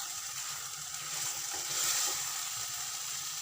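Roughly chopped tomatoes fry in a pan on a gas stove while being cooked down for methi malai paneer, a soft, steady sizzle with faint stirring and no voices.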